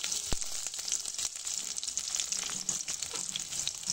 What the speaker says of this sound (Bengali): কড়ার ভিতরে সরিষার তেল দিয়েছি, তেলটা খুব ভালো করে গরম হয়ে গেছে। এবারে দেব পেঁয়াজ, কাঁচা ঝাল, আদা রসুন জিরা বাটা